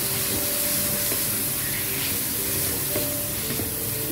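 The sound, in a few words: chicken frying in pan with ginger garlic paste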